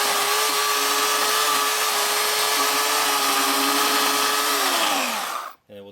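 A power tool runs steadily and loud, mortising a slot into a timber pergola post for a knife plate, holding a constant whining drone before spinning down and cutting off near the end.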